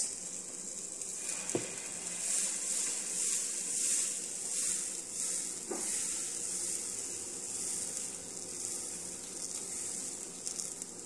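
Moong dal dosa batter spread thin on a hot pan over a low flame gives a steady, close sizzling hiss, with a couple of brief scraping clicks as it is spread.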